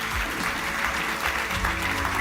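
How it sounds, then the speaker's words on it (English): Audience applause for a panel at a college launch event: steady, dense clapping sustained at an even level throughout, with a low hum underneath. "please give the panel a warm round of applause."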